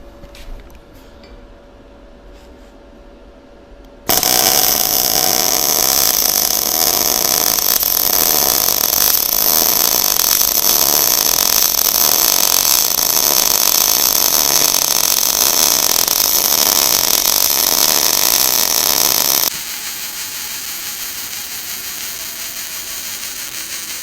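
A beginner-level YES MIG welder runs beads on tacked steel pieces, giving a loud, steady crackling hiss that starts abruptly, holds continuously for about fifteen seconds, then cuts off to quieter background.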